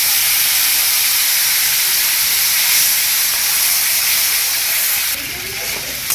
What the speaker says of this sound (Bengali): এবার আমি পেঁয়াজটা ভেজে নেব ভালো করে